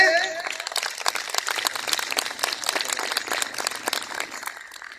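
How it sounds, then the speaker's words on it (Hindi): Audience applause fills a meeting hall, a dense, steady wash of clapping from a large crowd that holds for the full stretch and tapers slightly at the end, with a brief voice at the start. "या तो थप्पड़ी बजा लीजिए"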